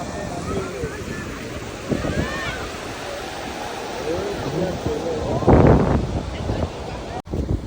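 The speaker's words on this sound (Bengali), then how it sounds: "মন্দারমণির থেকে কিন্তু বেশ ফাঁকা এবং ভালো রকম ঢেউ আছে" Sea waves on an open beach at Mandarmani, a continuous rushing surf with wind buffeting the microphone and a louder breaking wash partway through, while people talk over it.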